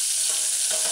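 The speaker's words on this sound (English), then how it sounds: "the codfish chunks on the other side and allow it to fry for 10 seconds." Chunks of codfish fry in a hot pan, a steady bright sizzle running through the whole short moment with a slight swell near the end, no voices present.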